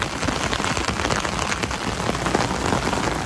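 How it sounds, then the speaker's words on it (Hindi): Heavy rain pours steadily at Jabal Rahmat in Makkah, a dense, continuous hiss and patter of drops on surfaces, loud and close throughout with no voices. "इतनी तेज बारिश हो रही है जबल रहमत में"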